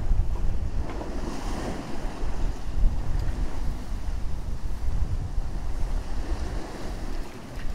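Constant wind and rolling sea swell around a sailboat under way in winter off Roscoff, making over six knots in a 15 to 20 knot breeze, a steady loud rushing with wind buffeting the microphone throughout.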